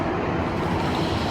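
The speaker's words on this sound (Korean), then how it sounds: "파도 소리가" Ocean waves roll in a continuous, full rumble, close and loud, with no voices.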